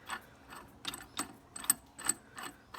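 Ratchet wrench loosening and removing a bolt on a Polaris 300 starter, a run of quiet close clicking bursts in an irregular rhythm, about seven short ratcheting strokes with no talk.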